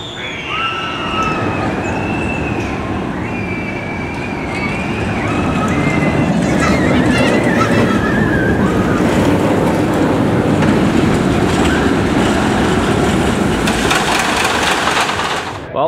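Riders on the Bat, a suspended roller coaster at Kings Island, swing along the track as steady rumbling train noise and clatter fills the clip, with faint hydraulic whining and squeaks layered over it, growing louder midway and continuing throughout.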